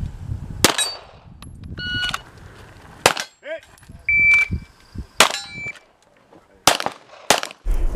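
Several sharp pistol shots ring out across a shooting stage, some followed by bright metallic clangs from steel targets, separated by short pauses and quieter movement between the reports.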